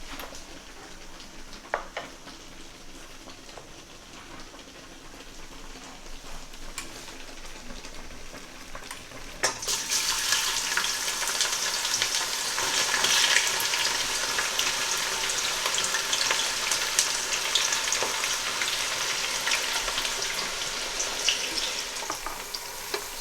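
Cumin seeds sizzle quietly in hot oil before onions drop in, the frying surging into a loud, dense hiss that continues steadily up close.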